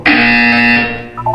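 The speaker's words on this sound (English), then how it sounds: "You will hear a buzzer. When you hear the buzzer, look up at the ceiling." A loud electronic buzzer from the video game Portal 2 gives one steady tone lasting just under a second, then a shorter, quieter pair of tones.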